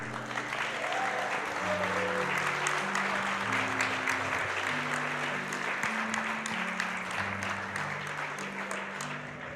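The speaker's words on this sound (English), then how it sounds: "how about one more round of applause for the Yeti?" Loud, sustained applause from a crowd at a Summer Games Done Quick 2015 speedrun event, with steady background music tones playing underneath.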